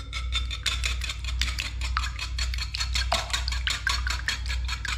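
A utensil beats oil and three eggs in a bowl with quick, regular clinking strokes, close and steady over a low background hum.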